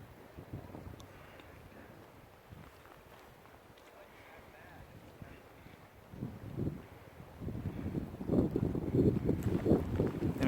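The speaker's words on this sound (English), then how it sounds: "It's really windy today." Gusty wind at Lake Virginia, a high mountain lake around 10,300 feet among granite peaks after a thunderstorm, rumbling and buffeting the microphone, rising to strong blasts toward the end, with a voice speaking faintly early on.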